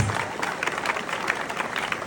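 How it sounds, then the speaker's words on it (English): Crowd at a gathering in Ghana applauds, a steady close spread of hand claps with small rhythmic bursts, carrying on evenly for about two seconds. "Another round of applause for him."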